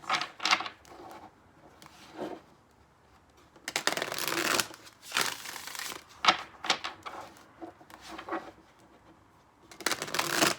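Tarot cards being shuffled in repeated bursts of riffling and flicking, close and crisp, with short quiet pauses between rounds.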